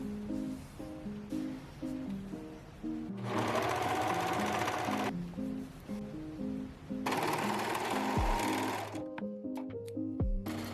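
A sewing machine attaches a neckband to an upcycled knit sweater, whirring in rapid rhythmic stitching bursts with brief pauses and louder runs, close and alone.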